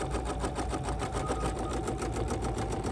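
Sewing machine running steadily while basting striped fabric during an appliqué quilt block, a fast even rhythmic stitching clatter, close and continuous with no talk.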